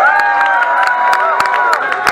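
An audience at a concert applauds and cheers loudly, with dense clapping and shouts for a couple of seconds alongside a sustained tonal backdrop.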